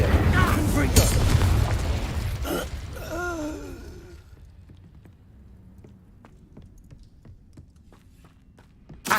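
A Confringo spell blasts in Hogwarts Legacy, a loud burst and rumble up front that decays into a few whooshing, swooping magical tones, then quieter footsteps and clicks trail off; spell words are spoken over it.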